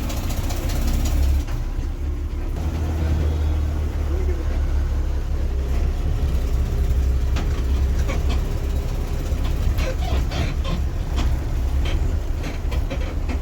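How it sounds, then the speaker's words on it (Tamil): A KSRTC Sarige bus pulling out of the Mysore bus stand toward Mangalore, its engine a deep, steady rumble with road noise and rattles inside the cabin, and voices talking faintly underneath. "மைசூர் KSRTC பஸ் ஸ்டாண்ட்லேருந்து மங்களூர் நோக்கி கிளம்பிட்டு இருக்கு"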